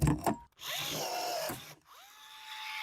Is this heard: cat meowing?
no